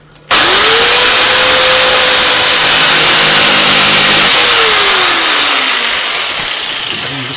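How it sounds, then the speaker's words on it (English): A jigsaw cuts curved arm pieces from yew or ash for a Windsor chair, starting abruptly with a loud, sustained whine whose pitch bends as the blade works along the curve, then gradually easing toward the end. "I'm going to cut along here with my jigsaw first and then around"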